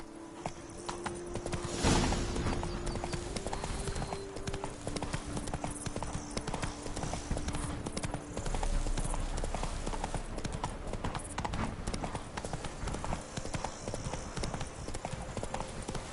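Horse hooves gallop in a steady, continuous clip-clop rhythm from a horse in The Witcher 3 video game, layered over an ambient game soundscape.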